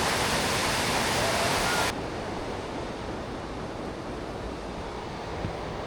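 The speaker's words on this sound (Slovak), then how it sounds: "No, to je riadna voda, čo?" Loud, steady roar of rushing water from a stream or waterfall near a family camper-van trip in the mountains, broadband and continuous, dropping slightly in level after the first two seconds.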